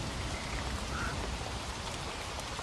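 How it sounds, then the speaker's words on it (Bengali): Heavy rain as a cartoon sound effect, a constant loud wash of falling drops with a low rumbling texture, steady and unbroken throughout without talk. "আজ সকাল থেকে ঝড়ো ঝড়ো করে বৃষ্টি পড়ছে।"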